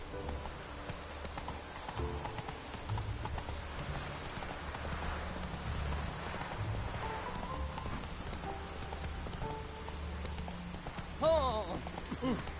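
Horse hooves clip-clop steadily through falling rain in a PS4 video game, a moderate rhythmic clatter under a constant soft hiss of rain, with brief voices near the end.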